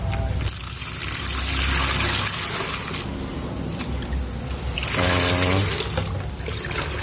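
Water poured into blended shallots in a container to make a soaking liquid for red ginger seed rhizomes, a loud, close, continuous splashing pour in two main bursts.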